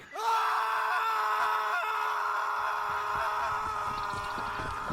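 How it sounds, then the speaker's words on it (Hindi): A man's long sustained scream echoes through a forest at dusk, loud and unbroken for several seconds, with a hollow reverberant tail and faint rustling beneath it. "तभी अचानक पूरे जंगल में एक आदमी की चीख गूंज उठी।"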